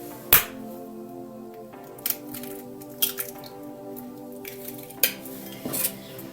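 Two eggs whisked lightly by hand in a bowl, giving sparse, soft wet clicks and taps of the whisk against the side, close up over a steady tonal background.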